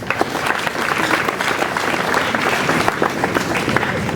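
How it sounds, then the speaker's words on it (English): An audience at a school homecoming claps for its team; a dense, even wash of many hands applauding, moderately loud, with no speech over it. "Can you clap for our team?"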